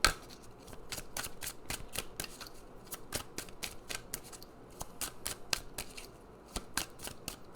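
Oracle cards being shuffled by hand, a quiet run of crisp, sharp slaps and flicks in a fairly regular rhythm, close up and without talking.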